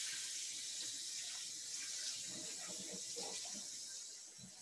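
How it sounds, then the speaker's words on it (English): Water runs steadily from a kitchen tap into a cooking pot, a continuous hissing splash that stays fairly even and fades slightly near the end, heard alone without talk. "Now I'm going to get some clean water."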